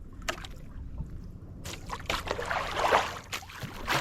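Wooden paddles dip and pull through water as a small engineless boat is rowed home, irregular splashes and swishing strokes close by, with quiet gaps between them.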